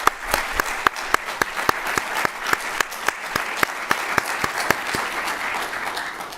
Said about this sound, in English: I'd like to give them a big round of applause because they did a stellar job